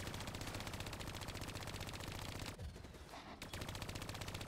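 Sustained rapid automatic gunfire in Call of Duty: Black Ops 3, dense and continuous with a brief lull before the firing resumes.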